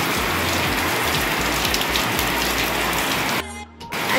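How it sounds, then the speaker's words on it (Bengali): Heavy monsoon rain pours down outside a home, a dense, loud, continuous hiss of drops that drops away abruptly near the end. "বাইরে হচ্ছে দেখুন মুষলধারে ধারে বৃষ্টি"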